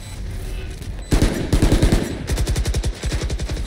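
Machine gun fire in a video game, loud rapid bursts of rattling shots in quick repeated volleys, close and dominant over a dull background hum, with no talking.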